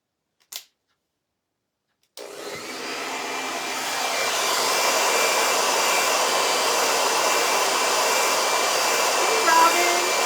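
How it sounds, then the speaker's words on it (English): A hair dryer on its cool setting blows over vinyl on a painted knife block, starting after a brief click and roaring loudly and steadily close up for about eight seconds. "I'm going to use my hair dryer on cool to dry this off"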